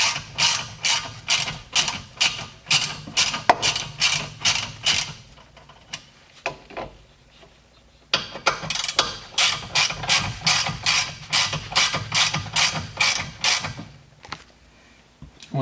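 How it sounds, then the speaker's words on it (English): Rapid ratcheting clicks from a hand ratchet loosening guide pins on a BMW brake caliper, two long bursts of fast, even clicking close up with a short pause and a few isolated clicks between them, no talking. "Go ahead and remove the guide pins all the way."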